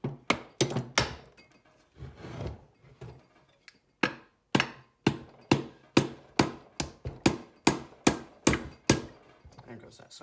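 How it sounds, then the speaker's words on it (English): A hammer strikes an engine part in a series of sharp, close knocks. They come irregularly at first, then settle into a steady pounding of about two blows per second. "Gonna need a hammer"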